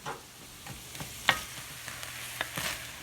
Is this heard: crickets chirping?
no